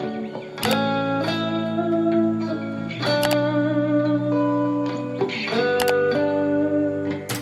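Electric guitar with heavy effects rings out, a one-note chord then a two-note chord, sustained, with sharp strums every couple of seconds, echoing and distorted.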